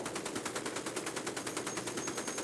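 Rapid automatic gunfire in the shooter game Escape from Tarkov, a steady, evenly spaced stream of shots running unbroken through the whole stretch with no talking.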